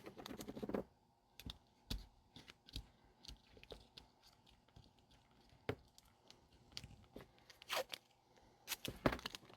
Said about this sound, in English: So we'll go ahead and tape that in place.